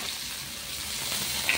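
Prawns hit hot oil already tempered with spices, ginger and green chilli, giving a close, steady sizzle and crackle of frying throughout a short moment.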